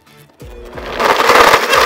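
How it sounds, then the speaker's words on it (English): Blender whirring through avocado ice cream, starting after a brief quiet moment and building into a loud, steady, dense grinding roar that holds to the end. "It only makes sense that our final recipe of the day also has a blender."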